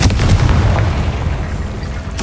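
A Confringo blasting spell cast in Hogwarts Legacy lands as a loud, dense boom with a heavy low rumble that decays over about two seconds, and a sharp burst sounds at the very end.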